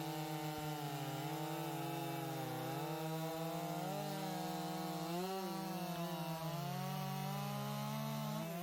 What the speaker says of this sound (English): The 281 is cutting through the log with the log at